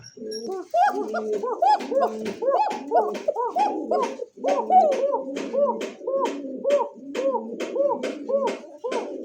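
Pigeons, a male and female pair, coo back and forth in repeated soft throaty phrases, close and clear, forming a busy overlapping rhythm.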